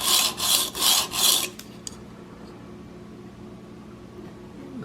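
Swacker broadhead being sharpened on a 240 grit plate: four light, evenly spaced rasping rolls up front, then quiet room tone.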